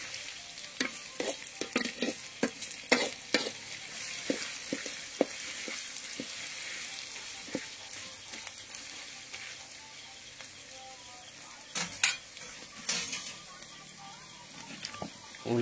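Onions and green chillies fry in a kadai for chicken curry, a soft sizzle broken by frequent spatula scrapes and knocks against the pan, with quieter stretches between bursts of stirring.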